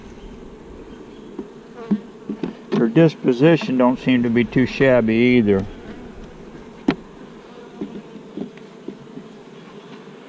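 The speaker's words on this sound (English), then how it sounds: "These are the kind of bees you want." Bees hum around a nuc colony in a continuous, fairly steady buzz that carries under someone speaking briefly in the middle, with a few small knocks near the hive.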